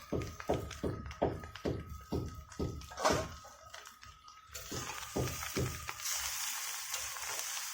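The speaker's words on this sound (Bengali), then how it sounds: "ভালো করে নাড়াচাড়া করে নিতে হবে, সুন্দর করে ভেজে নিতে হবে চাউমিনটা" Chowmein noodles being stir-fried in a pan, with a series of rhythmic spatula taps and scrapes at a steady beat, followed by a softer, steadier frying hiss; close and moderately loud, with no talking.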